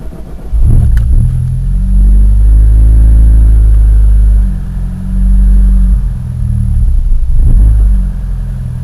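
A car engine at a cold start, low on fuel, runs a loud, deep, rough idle that sags toward stalling and is kept alive with repeated throttle blips, steady rumble with brief dips and surges.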